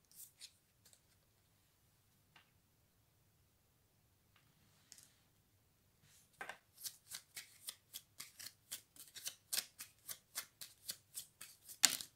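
Deck of cards shuffled, a few soft isolated taps at first, then a rapid run of crisp riffling flicks in quick rhythmic succession, close and fairly quiet.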